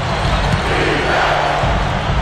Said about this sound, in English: With that one, boy, they got the crowd buzzing there.